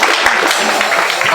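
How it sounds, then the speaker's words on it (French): Wedding guests applauding, a dense wash of clapping close by with a voice mixed in. "Applaudissez plus fort s'il vous plaît"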